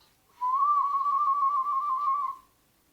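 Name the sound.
warbling whistle made by palate tapping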